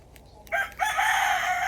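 A rooster crows loudly nearby, a single drawn-out call that rises sharply and holds, with a short cluck just before it.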